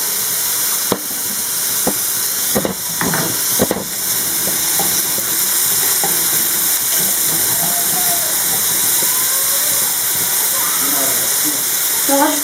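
Onion frying with lamb in a pan, a steady close sizzle and hiss running throughout, with a few brief knocks and clatters early on and faint voices in the background.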